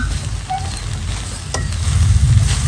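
Freshly gathered bamboo shoots boil down in a pot until the water is nearly gone, giving a steady close sizzle and soft bubbling with no one talking.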